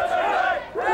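An angry crowd shouts together during a street disturbance, a loud, dense roar of many raised voices over about a second with a brief dip before rising again.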